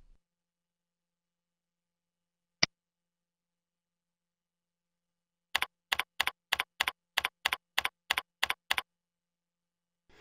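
Password keys typed on a computer keyboard: one isolated click, a pause, then a quick even run of about twelve crisp, close keystrokes against near silence, with no talking.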